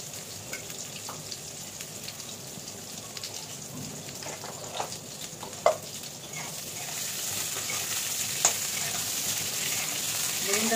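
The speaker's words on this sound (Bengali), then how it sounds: "বেগুনটা একটু ভাজবো।" Eggplant frying in oil in a pan, a steady close sizzle with soft crackles and a few sharper pops, growing slightly louder toward the end.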